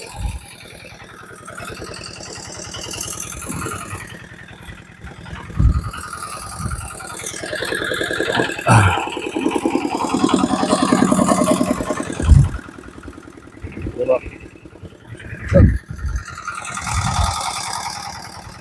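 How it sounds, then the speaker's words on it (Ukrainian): A small walk-behind tractor engine chugs steadily at a mid pitch for the whole stretch, with a few sharp knocks and clunks breaking through. "Зараз будемо гнати далі трактора."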